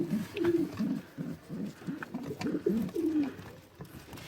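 Pigeon cooing close by in a loft where a pale brown bar pied hen sits on eggs, a run of soft, rolling low coos repeating in a steady rhythm with no talk.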